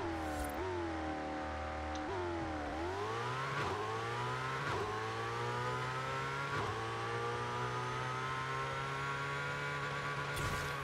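Ferrari J50 in Forza Horizon 5 launching down a quarter-mile drag strip, its engine screaming upward through the gears with sharp dips at each shift, then holding a loud sustained high-revving wail, with no talking.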